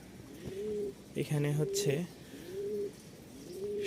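Racing pigeons packed in cartons for delivery coo in repeated soft, rolling calls, close by, while a person talks briefly between them.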